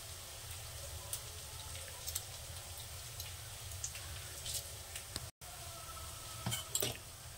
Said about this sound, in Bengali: এপাশে আমার পেঁয়াজটা ভাজা হতে থাকো।